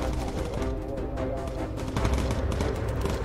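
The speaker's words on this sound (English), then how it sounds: "now my gunner should be able to, what, fire at them" Bomber turret guns firing in Bomber Crew, a WWII bomber game with USAAF crews, as a dense, steady stream of rapid gunfire with no breaks, with a voice talking over it.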